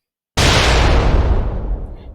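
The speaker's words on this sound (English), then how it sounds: "Then, in the blink of an eye, a cosmic explosion, the Big Bang, unleashed a flood of energy and matter." A single deep explosion, sudden and loud, standing in for the Big Bang, with a sharp onset after brief silence and a long rumbling decay that fades over about two seconds.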